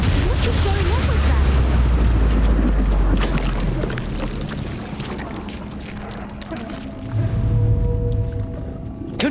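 Confringo blasting spells burst in Hogwarts Legacy, producing deep rumbling booms and crackling impacts, loudest at the start and again later, mixed with excited talking and game effects.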